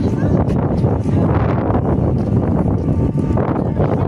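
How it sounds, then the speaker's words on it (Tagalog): Strong wind roars and buffets the microphone in a constant, loud, low rumble, with voices talking faintly underneath, on the MOA Sky rooftop at SM Mall of Asia. "Hangin."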